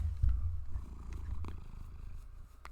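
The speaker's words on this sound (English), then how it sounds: "Oh, she is purring. Oh, she is so loud." A cat purrs loudly and close, a low rumbling drone pulsing steadily throughout with a stronger swell near the start.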